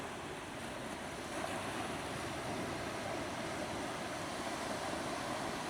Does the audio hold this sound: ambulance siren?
no